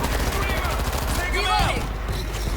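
Gunfire from shooting zombies in the co-op video game World War Z, a dense steady stream of rapid shots continuing beneath excited game voice sounds, close and loud throughout.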